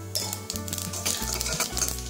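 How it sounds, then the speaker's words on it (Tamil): Mustard seeds crackle and pop in hot oil with a busy, irregular sizzle, over a low steady hum from the stove. "கடுகு வெடிக்கிறது"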